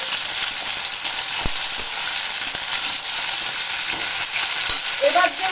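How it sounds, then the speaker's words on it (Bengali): Eggplant and gourd greens being stirred as they fry in a pan for a vegetarian Bengali lau shak chorchori, a steady loud sizzle with scraping stirs and a few sharp clicks, no talking. "বেগুনটা সবটাই আমি দিয়ে দেব আর একটু নাড়াচাড়া করে দিচ্ছি আমি"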